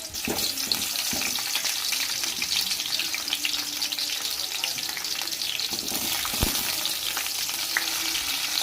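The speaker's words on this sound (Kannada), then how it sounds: "ಈರುಳ್ಳಿ ಹಾಕ್ಕೊಂಡು ಚೂರು ಹಸಿ ವಾಸನೆ ಹೋಗಬೇಕು ಅಲ್ಲಿ ತನಕ ನೀಟಾಗಿ ಫ್ರೈ ಮಾಡ್ಕೊಳ್ಳಿ" Onions fry in hot oil in a pan for a potato and beans sambar, a dense, steady sizzle with a few faint clicks running unbroken at close range.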